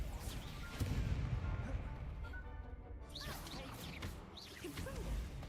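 In Hogwarts Legacy, the Confringo fire spell goes off as a whooshing blast with a crashing impact, followed by lighter swishing spell effects and clatter.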